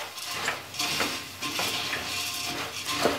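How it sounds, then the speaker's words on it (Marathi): Puffed rice chivda with salt being stirred in a pan, a steady dry rustle with repeated scraping clinks of a spoon against metal, close and moderately loud, with no talking. "हे आता प्रॉपर हलवून घ्यायचं, कारण सगळीकडे चुरमुऱ्यांना मीठ वगैरे लागलं पाहिजे"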